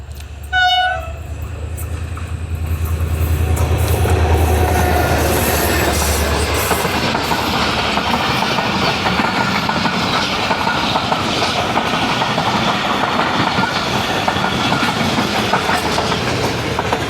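A fast train passes near Lahore, opening with a short horn blast, then a loud, close roar of wheels and rattling carriages that sustains evenly throughout without letting up.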